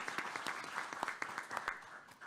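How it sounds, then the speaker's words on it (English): Brief round of applause from a school board meeting audience, moderately faint, steady scattered clapping from a group of people throughout. "so let's give her a big round of applause"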